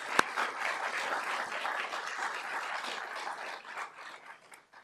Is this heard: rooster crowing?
no